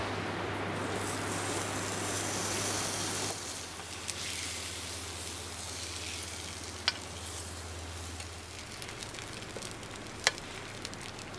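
Steak sizzles over a fire, a steady broadband hiss with occasional sharp pops and crackles throughout, fairly quiet and with no voices.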